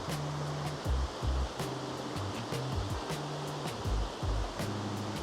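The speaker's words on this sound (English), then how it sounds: "And here there's a small waterfall." A small waterfall beside the stairs at Flørli on Lysefjord, Norway, gives a steady, fairly soft rush of falling water, with some low rumbling pulses underneath, and no one speaks.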